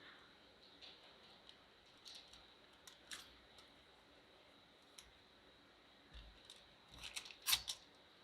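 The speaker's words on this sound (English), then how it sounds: "I'm just cutting the edges off so that I can get one big square" Scissors or a blade trims the edges off a fake fudge craft block, faint scattered snips and clicks at close range, growing busier toward the end.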